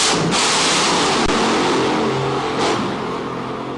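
A car engine revs loudly and steadily for nearly four seconds, a broad, close roar with slight swells, and no voices over it.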